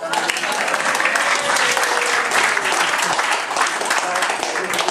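Audience clapping steadily and loudly throughout, a dense continuous burst of applause with voices blended in.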